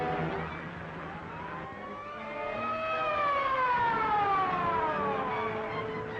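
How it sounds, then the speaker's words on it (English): A police car siren wails loudly, its pitch rising and falling in long sweeping cycles over the rumble of a moving car, with no talk in the clip. "Police car, Trendle."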